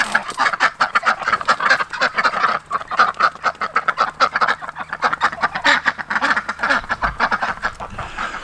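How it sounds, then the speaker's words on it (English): A flock of ducks quacks continuously and loudly, many overlapping calls in a busy, rapid chorus close by. "Maybe I should go let the ducks out as well."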